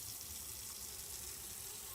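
Water pouring into a container in the Autopsy Simulator video game, a steady gushing rush like a running tap, moderately loud and continuous for the whole moment.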